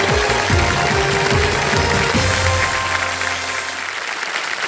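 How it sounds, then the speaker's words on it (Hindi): Studio audience on the TV quiz show Kaun Banega Crorepati claps loudly and densely in a sustained burst of applause that fades slightly toward the end. "जोरदार ताली एक बार फिर से"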